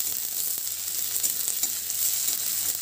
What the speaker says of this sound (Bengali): তেল গরম হয়ে গেছে, প্রথমে আমি তেলে দিয়ে দেবো একটা মিডিয়াম সাইজের পেঁয়াজ কুচি।